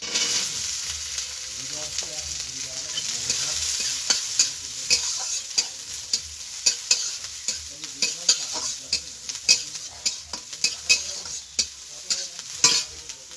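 Chopped green chilli and capsicum frying in a pan, with a steady broad sizzle and repeated sharp clinks and scrapes of a spatula stirring, growing busier toward the end; no voices.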